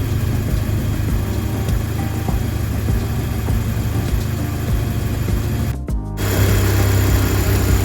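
Audi TT Mk2 2.0 TFSI engine, after a timing belt replacement, running with a steady mechanical whir and ticking, a brief dip, then settling into a louder, even idle close up.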